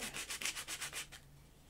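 Sandpaper rubbed back and forth over wood while building a drawer in a workshop, about nine quick rhythmic scratching strokes, close and fairly loud, then stopping into quiet.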